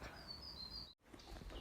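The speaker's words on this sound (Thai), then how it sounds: "ได้ยินแต่เสียงนกร้อง" Faint birdsong in a quiet Swiss countryside forest: a thin, high chirping call drawn out over about a second, then a short gap followed by soft ambient hiss.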